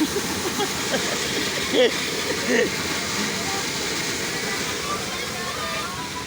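Rushing floodwater in a swollen river gives a steady, loud broadband roar throughout, with a couple of brief voice sounds rising faintly above it.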